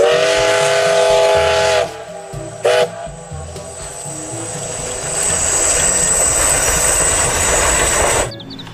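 A toy Thomas the Tank Engine train plays a loud steam-whistle blast with a rhythmic chugging beat underneath, pauses briefly, then gives a second, longer whistle and chug before cutting off.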